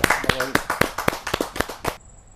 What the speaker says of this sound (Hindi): जहाँ जोरदार तालियों के साथ हम उनका